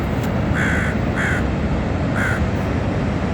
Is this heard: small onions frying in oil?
no